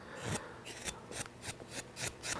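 Wood carving with a chisel, small chips shaved away in a steady series of about seven short crisp rasping cuts, close and fairly quiet, with no talking.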